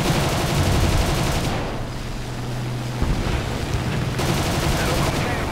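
Aircraft machine guns firing in War Thunder from a G.55S fighter, a loud dense rattling roar that cuts out midway to leave engine drone, then resumes just as heavily.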